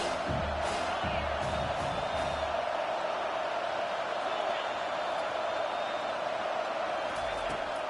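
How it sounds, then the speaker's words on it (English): A home crowd roars in the stands of an NCAA 25 college football video game. The broad, sustained crowd noise runs beneath a voice talking in the opening seconds and carries on alone after that. "how nice is it to have the home crowd going absolutely bananas?"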